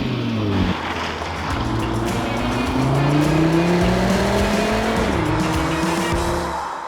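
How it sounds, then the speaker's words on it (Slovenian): A 2023 Cupra Formentor VZ5 with its five-cylinder engine roars loudly under hard acceleration. Its pitch climbs steadily through the gears, and there is a brief dip at each shift. "S tem, ko ta motor poženemo v dir, dobimo rohnenje posebne sorte."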